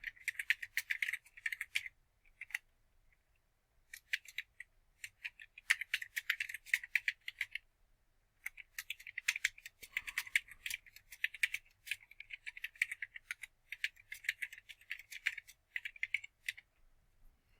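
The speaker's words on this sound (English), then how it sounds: "We're going to type a short poem." Brisk typing on a computer keyboard, with dense runs of close, sharp key clicks broken by a few short pauses and no talk.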